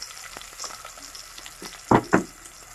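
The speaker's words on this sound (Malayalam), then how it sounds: "ചൂടായ എണ്ണയിലേക്ക് ഉള്ളിയിട്ട് കൊടുക്കാം" Onions dropped into hot oil for a crab roast give a steady low sizzle, with two louder bursts of crackling and stirring near the end; no voices.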